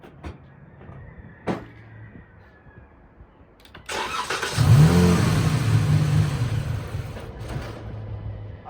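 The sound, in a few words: car engine cranking and running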